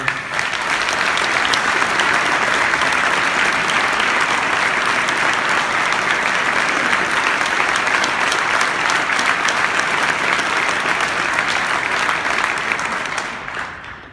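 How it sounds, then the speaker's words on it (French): A union congress audience of longshoremen delegates claps long and loud, a thick, even wave of applause lasting about fourteen seconds before it begins to thin out at the very end. "Je demanderais une bonne main d'applaudissement pour Mario."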